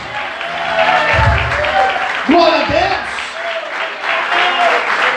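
A church congregation applauds at a Portuguese-language service, steady clapping under a voice that speaks and sings over it through a microphone.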